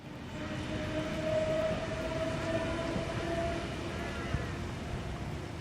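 A train rolls into a railway station with a low, sustained rumble and a faint whining tone riding over it, steady and moderately distant, with no talking.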